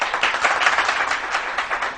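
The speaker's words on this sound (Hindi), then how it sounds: "यहाँ से ताली बजा के दिखाएं।" A studio audience on a morning TV show claps together for about two seconds, a busy patter of many hands at moderate volume with no voices over it.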